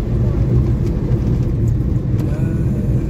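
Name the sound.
car driving on road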